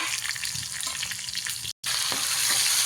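Ginger, garlic, finely chopped onion and green chillies are stirred as they fry for sambar, with a loud, even sizzle and scraping stir strokes close by, cut by a brief moment of silence.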